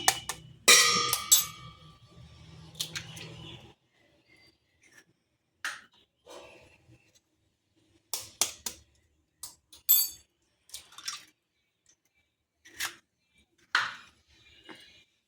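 Eggs cracked into a bowl for a cake: a few sharp shell taps and clinks, close and fairly crisp, spaced out between quiet pauses, with a brief denser clatter at the start.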